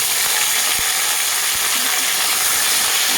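Vegetables including drumstick stalks, potato, bitter gourd and pumpkin fry in hot oil in a pan, a continuous loud, close sizzle with a few soft knocks and no talking.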